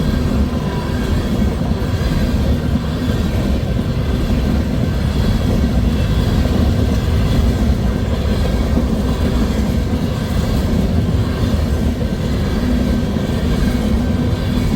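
Freight trains rolling east on a former C&W main line in Missouri Valley, Iowa, as a blizzard begins: a steady, loud rumble of rail cars passing close by throughout, with faint clickety-clack over heavy low-end roar.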